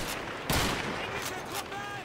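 Enemy gunfire in the World War II shooter Call of Duty 2: a sharp burst of shots near the half-second mark, then scattered further reports and whistling game sounds as a player speaks over the action.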